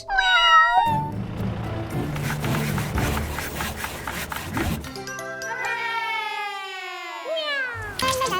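A cat meows repeatedly, loud and close, its cries rising and falling, with a stretch of rough rubbing and scraping noises between calls.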